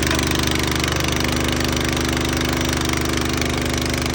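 Small gas engine on a PBM 300EL herbicide sprayer running steadily after a pull start, a loud, close, even putter with rapid regular pulses and no talk.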